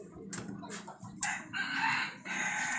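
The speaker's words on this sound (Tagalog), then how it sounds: "Look at the manok." Chickens on a rooftop-level farmyard: a rooster crows loudly and nearby, with clucking and other fowl calls in short overlapping bursts.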